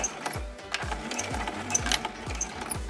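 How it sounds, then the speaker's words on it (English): A domestic sewing machine stitching through a folded fabric hot pad, its needle thumping in a quick steady rhythm of sharp, regular clunks with small mechanical rattles, close up and fairly quiet. "I'm going to just start sewing right after that folded edge"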